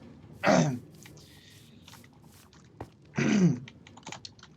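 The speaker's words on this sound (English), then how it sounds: "I had to clear my throat." Two short, rough throat-clearing bursts a few seconds apart, close to the mic, with faint clicks and tapping in between.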